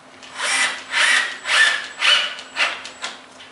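Power drill pre-drilling holes in an RTA cabinet, six short rhythmic whirring bursts at close range with a quiet hum between them.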